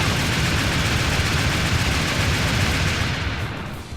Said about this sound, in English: I'll shoot right through them.